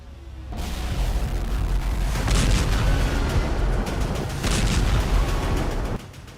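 Explosions from drone attacks on Kharkiv, a deep, dull roaring boom with rumbling low end that swells twice over several seconds, distant and heavy, with no voices.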